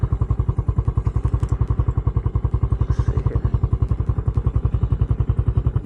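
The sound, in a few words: Skygo Boss 150 motorcycle engine idling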